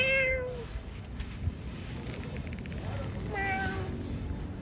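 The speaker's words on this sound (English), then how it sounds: "I found another cat." A cat meows several times outdoors, with distinct meows near the start and again past the midpoint over a steady low background rumble, fairly close and clear.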